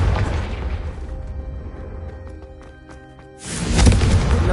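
A Confringo blasting spell in Hogwarts Legacy sets off booming explosions, a heavy blast at the start fading through a quieter rumble, then a second loud burst near the end.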